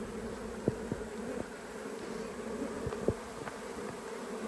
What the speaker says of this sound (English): This is actually an usurpation swarm that just landed.